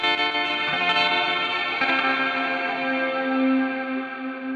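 Guitar run through a Zoom G6 multi-effects processor on an ambient preset, sustained chords blooming with heavy reverb and echo, a couple of strums layered into a long shimmering wash that rings on steadily.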